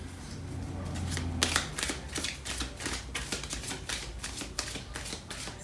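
Starseed Oracle cards shuffled by hand, a steady run of crisp riffling flicks and soft slaps close up, with a louder burst as the deck is cut and drawn.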